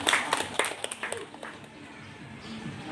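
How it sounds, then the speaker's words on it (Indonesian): Students and visitors applaud inside the Nias heritage museum on a school trip, a short burst of scattered clapping that fades quickly into background voices and room murmur. "Tepuk tangan untuk Ernia."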